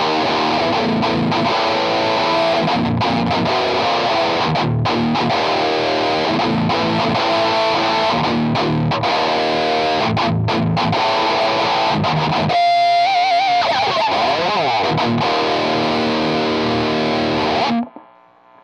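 Electric guitar through a Cuvave Cube Baby pedal with overdrive boost, dense distorted chords strummed loudly and continuously, breaking into a sustained ringing single-note passage before stopping abruptly.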